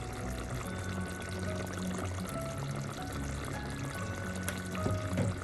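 Coconut oil poured into a sardine curry with green pepper, a steady liquid pour running throughout over a low simmering background, close and even in level.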